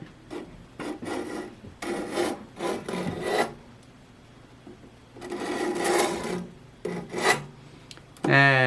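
Steel caliper points scribing a line across walnut, several short rasping scratch strokes separated by pauses, close and fairly quiet.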